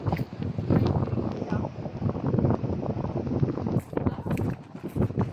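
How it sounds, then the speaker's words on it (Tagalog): Strong wind buffeting the microphone in continuous gusts at Santiago Cove, with a voice speaking faintly beneath the roar. "Ang hangin, grabe."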